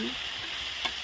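Egg and tomato frying in a pan, a steady close sizzle with faint stirring and a brief scrape near the end, no voices.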